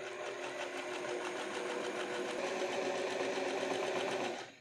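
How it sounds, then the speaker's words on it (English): Close, loud sewing machine runs in one continuous stretch down a jeans pocket lining seam, its steady rapid needle chatter holding even before stopping abruptly at the end. "And then sew from the top there down to here."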